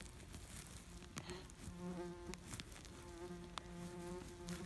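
A mosquito or fly buzzes close to the microphone in woodland during wild mushroom foraging. The faint, steady whine wavers in pitch as the insect drifts near and away.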